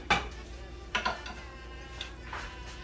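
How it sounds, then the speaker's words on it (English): A utensil scrapes and clinks against a pan while a spaghetti squash mixture sautes in olive oil, with a few separate stirring knocks over a quiet background. "I want to give it a nice stir. Get everything nice and coated."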